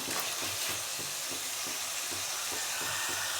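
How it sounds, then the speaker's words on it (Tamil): Chicken thokku simmers in a pan, giving a steady close sizzle and hiss with faint regular bubbling pops and light stirring throughout, no voices. "கொஞ்சம் நேரம் சிம்மிலே இருக்கட்டும், நல்லா வேகட்டும்."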